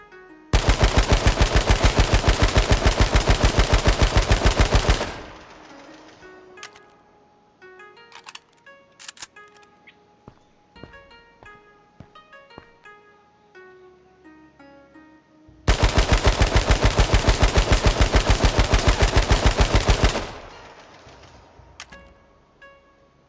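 Automatic gunfire during weapon spray and recoil testing in the video game H1Z1, heard as two long, loud, rapid bursts with a quieter stretch of scattered clicks and thuds between them.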